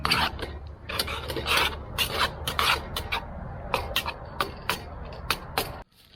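Repeated scraping and rasping of a utensil stirring food in a pot on a camp stove, nearby and uneven in rhythm, with a steady low stove hiss under it before the sound cuts off abruptly.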